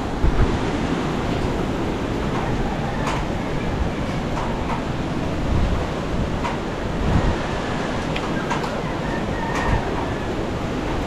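Fierce wind from a super typhoon making landfall in Batangas roars outside, heard from indoors as a loud, constant rushing noise with occasional gusts and faint knocks.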